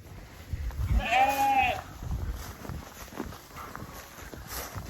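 A sheep gives one clear, wavering bleat nearby on a farm, followed by faint shuffling steps and rustling against a quiet outdoor background.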